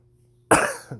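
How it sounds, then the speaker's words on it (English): A single harsh cough bursts out after a moment of quiet, followed by a smaller second cough trailing off near the end. "If I cough a few times, you'll have to excuse me."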